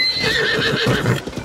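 A horse in Zelda Tears of the Kingdom lets out a loud, close whinny, followed by a few hoof clops toward the end.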